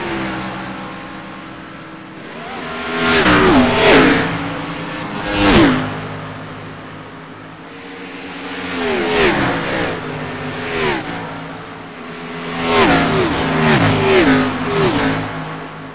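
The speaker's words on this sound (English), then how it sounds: "This group of cars making their way through turns 3 and 4 here at the Indianapolis Motor Speedway." Race cars at Indianapolis Motor Speedway in the iRacing video game, engines whining past in waves as groups of cars approach and recede, each pass rising and falling in pitch, loud and close.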